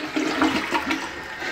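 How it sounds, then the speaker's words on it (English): A toilet flushes close by, a steady rushing gush of water that holds at even strength for the whole stretch, with no voices. "Would you mind flushing the toilet for me"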